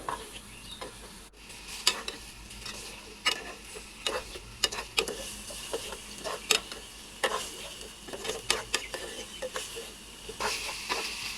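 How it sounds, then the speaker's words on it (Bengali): Potato bhaji frying in a pan while being stirred, with an even sizzle under repeated scraping and clicking strokes of a spatula that stay close and steady throughout. "আমি আলু ভাজিটা করে নিব"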